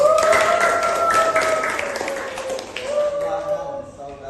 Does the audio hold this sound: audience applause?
yes